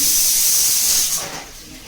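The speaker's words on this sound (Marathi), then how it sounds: "ही शिट्टी मध्येच झालेली आहे इकडे कुकरची" A loud, steady steam hiss from a pressure cooker fills the first second, then fades to a softer hiss as the whistle trails off.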